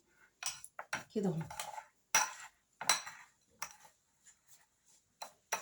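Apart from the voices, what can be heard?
stirring dough with oil and sugar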